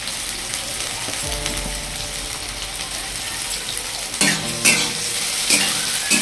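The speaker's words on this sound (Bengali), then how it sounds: "পেঁয়াজটা এখন ভেজে নিতে হবে" Thinly sliced onions fry in hot oil on a high gas flame for biryani beresta, a loud steady sizzle with scraping stirs and a few metallic clinks of the spatula against the pan.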